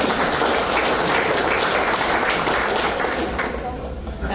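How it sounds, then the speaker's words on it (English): Dense, steady applause from a hall of fame ceremony audience, loud and continuous before gradually tapering off in the final second. "A round of applause."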